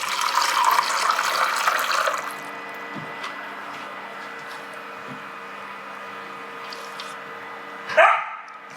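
A countertop water cooler dispenser with a built-in ice maker pours cold water. A splashing stream runs for about two seconds, then stops. A faint hum and a single click follow.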